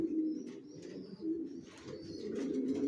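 Racer pigeons coo softly and repeatedly at close range, low throaty calls rising and falling over a quiet background.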